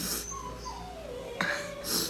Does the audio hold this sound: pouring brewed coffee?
no